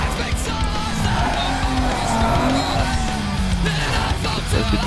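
A street racing car in Need for Speed Underground 2 launches hard, its engine note climbing and sweeping upward for several seconds, loud and close, with some tyre squeal and rumble underneath.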